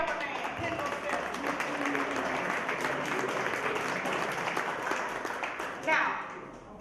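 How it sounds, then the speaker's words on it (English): An audience at a community celebration health forum gives a sustained round of applause, dense and even for several seconds before cutting off near the end. "you have to give a big round of applause to my new BFF, my Pittsburgh Steelers man, Kendall Steelers"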